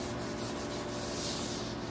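A Scotch-Brite pad scrubbed over the metal bed bar of a Foley 673 bedknife grinder, a steady close rubbing and scouring noise that runs continuously with no speech.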